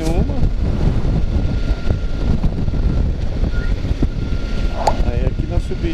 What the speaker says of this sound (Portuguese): Mas tá muito bom hoje aqui, apesar do vento aqui